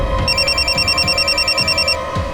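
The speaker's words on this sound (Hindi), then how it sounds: "सावंत का फोन था" Telephone ringing with a bright, electronic warbling bell tone repeating rapidly, loud and close, nearly filling the short stretch alone.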